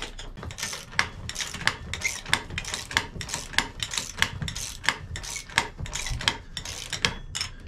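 Bolts on an anvil stand are tightened with a ratchet, giving a quick, close run of regular metallic clicks with a slight rubbing scrape between them.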